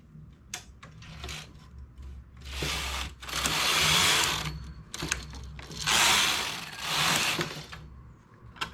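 Knitting machine carriage passing back and forth to knit two rows of a cap, giving two long, loud mechanical sliding sweeps with lighter clicks and knocks between them, close by.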